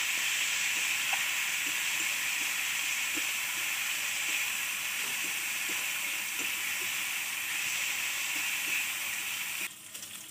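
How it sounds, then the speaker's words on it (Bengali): A paste of garlic, nigella seed and green chili fries in a pan with a steady, close sizzling hiss and faint scattered ticks of stirring, then eases off at the very end. "তো এবার আমি রসুন, কালো জিরে, কাঁচা লঙ্কা বেটে রেখেছি একসাথে দিয়ে দেবো। এটা আমি ভালো করে কষিয়ে নেবো।"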